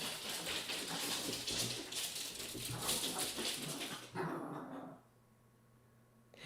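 A dog in a tabletop board game playthrough yelps and whimpers loudly for about four seconds, dense and busy, then drops away into quiet room noise.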